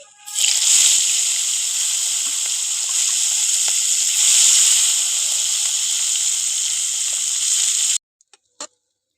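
Small hilsa fish fries in oil with a loud, continuous bubbling sizzle for several seconds, then it abruptly stops, leaving a few faint clicks.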